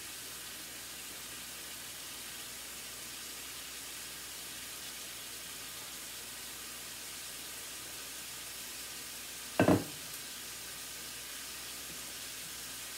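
Ground beef frying on high heat in a home kitchen pan, a steady, even sizzling hiss that runs throughout, broken by one brief clatter near the end; no talking.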